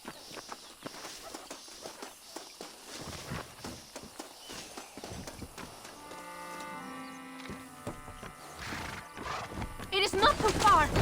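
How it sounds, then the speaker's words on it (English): Horses clip-clop at a steady walk while pulling a stagecoach in the Western game Red Dead Redemption, hoofbeats and wheel rattle moderately close, with spoken dialogue over them and a brief neigh near the end. "They are good horses."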